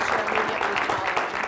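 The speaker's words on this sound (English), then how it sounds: "Big round of applause." Conference attendees at a closing general session applaud together, a dense, even wash of clapping that stays loud and steady for the whole short stretch.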